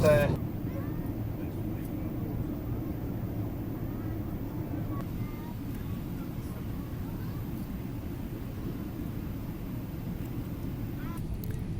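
An airliner cabin on final approach into Abu Dhabi carries a constant low engine and airflow drone throughout. Faint, muffled voices sit beneath the drone.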